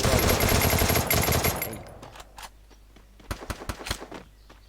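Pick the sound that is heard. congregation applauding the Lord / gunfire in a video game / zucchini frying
gunfire in a video game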